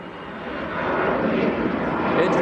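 An EasyJet Airbus A320 takes off with a loud, steady broadband engine roar that builds slightly and holds. A voice talks over the roar.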